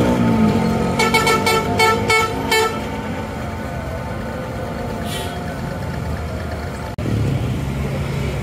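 A tour bus at the Pasar Rebo bus agency sounds a loud rhythmic series of horn toots over a steady diesel engine drone, followed by continued idling rumble with a brief jolt near the end.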